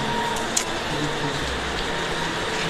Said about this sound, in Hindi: अभी भी बारिश हो ही रही है, रात के 10:30 हो रही है अभी।